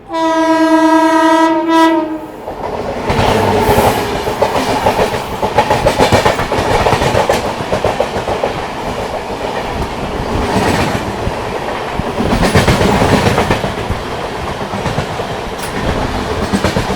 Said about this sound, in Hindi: सामने में कोई ट्रेन रेडी हो रही है WP5 लेके